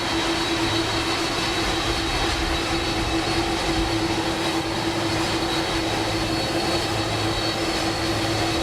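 Air Force One jet taxiing on an airport apron in Florida, heard as a steady, loud, continuous engine roar with a sustained whine that holds evenly throughout, with no talk.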